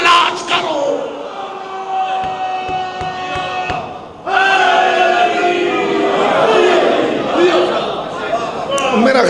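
A large crowd at a religious gathering chants a slogan in a loud, sustained roar of many voices, with a brief dip before the shout swells again and carries through to the end.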